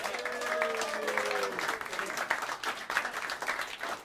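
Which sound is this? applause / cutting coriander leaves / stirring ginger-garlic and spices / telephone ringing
applause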